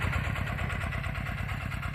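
A walk-behind motor tractor works with a potato planter, its engine running steadily and close by with an even, throbbing pulse throughout and no talking.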